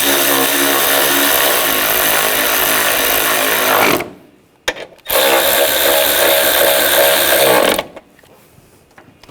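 A power tool tightens bolts in the engine bay of a BMW X5, whirring loudly in two sustained runs of about four seconds each, split by a brief quiet gap and ending in near silence.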